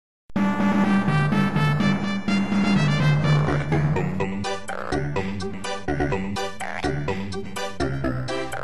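Pogo the frog from the Amiga game Nebulous makes a series of chiptune-style croaks and bouncy tones over a rhythmic game melody, loud and continuous for several seconds.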